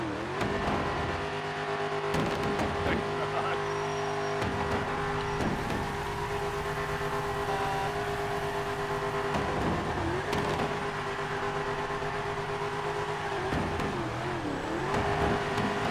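A loud GT3 sports car engine drones and revs steadily in a driving video game, with audible gear shifts and pitch changes, heard alone without talk.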